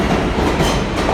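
A New York City subway F train rumbles loudly and close by, a dense, steady roar of wheels and rolling stock on the rails with no voices over it.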